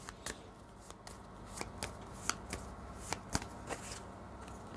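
Tarot cards are shuffled, handled and drawn close by, giving soft papery riffles and a string of crisp snaps and flicks at an irregular pace, quiet and without talk.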